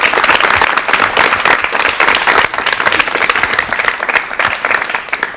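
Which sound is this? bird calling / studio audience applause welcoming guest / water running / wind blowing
studio audience applause welcoming guest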